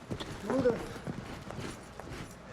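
Horses ridden by young boys walk along, their hooves clip-clopping in an uneven series of soft thuds at moderate distance, partly under nearby voices.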